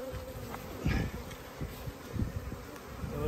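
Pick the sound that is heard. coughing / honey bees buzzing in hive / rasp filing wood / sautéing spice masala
honey bees buzzing in hive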